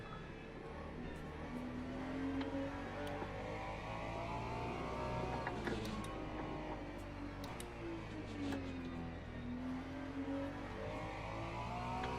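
Racing car engines roar through a Gran Turismo 7 hypercar race in the forest, with a steady drone of revs rising and falling and another car, a Corvette, closing in. There is no talk.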